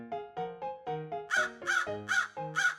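A loud crow caws again and again near at hand: a steady string of around nine rasping calls, the later ones harsher and more forceful.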